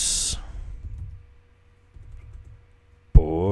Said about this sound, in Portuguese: E agora eu vou começar a digitar